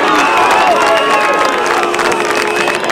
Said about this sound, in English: Crowd enjoying this comeback here by Mernda